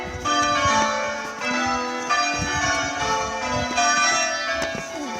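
Church bells ring out in a steady overlapping peal, close and loud, strikes repeating roughly every second with a long ringing hum between them.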